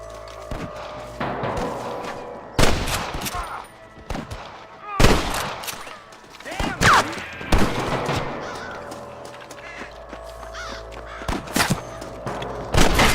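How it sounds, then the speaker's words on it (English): Sharp gunshots ring out in a Red Dead Redemption shootout, several loud separate cracks spread irregularly across the scene over ambient game sounds and music. "Stop shooting at me!"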